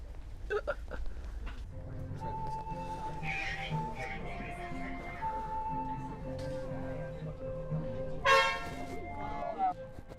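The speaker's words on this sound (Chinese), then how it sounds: "鸣笛了，出发了。" An Alishan Forest Railway train sounds a steady, droning horn just before departure, heard from inside an empty, cold carriage; voices talk over it, and a sharper burst comes near the end.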